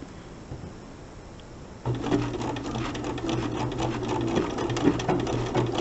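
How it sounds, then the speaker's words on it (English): A sewing machine runs steadily for a locking stitch at the start of a buttonhole-stitch machine applique, starting after a quiet moment and continuing as a close, even mechanical whir with rapid needle clatter. "Okay, so I'm going to start with a locking stitch."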